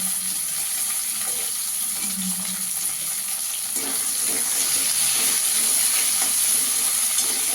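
Chopped tomato and green chilli hit a pan of lightly fried onions, and a steady hiss of frying builds louder partway through, with stirring and scraping sounds up close and no talking.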